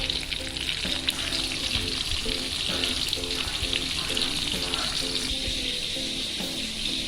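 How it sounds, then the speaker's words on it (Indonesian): Tomatoes fry in hot oil for a sambal, giving a steady, loud sizzling hiss with bubbly crackle throughout, while a faint rhythmic musical pattern runs underneath. "Kita goreng agak lama karena tomat ini banyak mengandung air"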